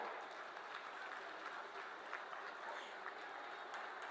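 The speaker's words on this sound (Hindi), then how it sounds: "तालियों का संगीत चलता रहे।" Faint, distant applause from a crowd at a public development project ceremony, a steady hiss of clapping with occasional louder claps, continuous throughout.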